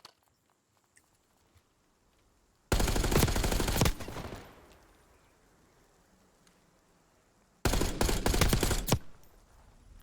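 Black Ops 6 gunfight with two sustained bursts of automatic gunfire, each roughly a second long and several seconds apart, loud and close, the first trailing off into fading echo over quiet game ambience.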